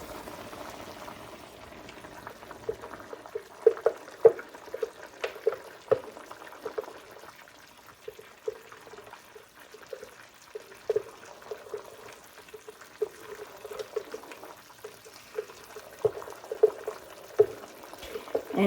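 Chili sauce is poured into a pot of Texas chili, bubbling and simmering with small irregular pops and liquid gurgles, fairly close and without talk.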